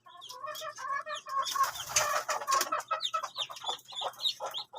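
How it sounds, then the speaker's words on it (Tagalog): A Chinese silky hen with ten newly hatched chicks makes soft clucks mixed with many high, rapid peeps from the chicks, all close and continuous with no talking. "Ito po yung Chinese silky po namin."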